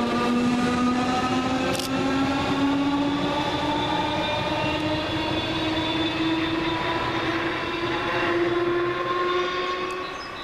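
A Southern Railway Class 313 electric passenger train pulls away from Goring-by-Sea station, its electric motors whining in rising tones over steady rumbling wheels, loud and close throughout.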